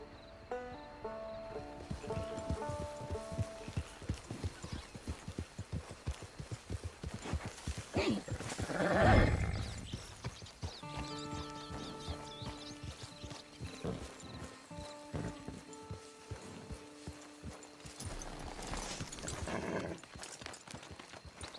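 Horse hooves clip-clop steadily in Red Dead Redemption 2, with a loud whinny rising midway, over soft sustained game music and occasional faint voices.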